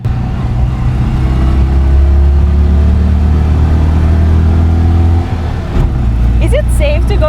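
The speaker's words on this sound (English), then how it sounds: "Obviously the car is tiny, make noise, and looks like you are flying." A tiny vintage car's engine drones loud and steady while driving fast, with low rumble and road noise throughout and a brief shift near the end.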